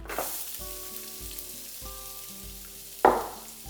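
Onions and peppers hit hot oil flavored by sausage and sizzle steadily in the pan, with a bright spike of frying as more food is added near the end.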